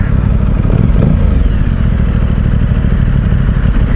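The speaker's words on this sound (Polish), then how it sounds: "dźwięk jest taki na wolnych obrotach" An Aprilia Tuono 660 Factory motorcycle idles nearby with a loud, steady, low engine burble that keeps an even pulse throughout.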